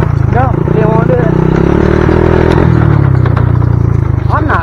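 A Honda motorcycle engine runs steadily and loudly throughout, a low continuous drone with someone talking over it near the end.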